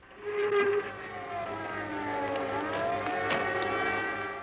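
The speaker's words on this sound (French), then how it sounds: "Dès que les sirènes se font entendre, les habitants descendent dans le métro" Air raid sirens wail over Moscow in 1941, a long rising and falling howl that swells loud at first, then holds steady with overlapping tones through to the end.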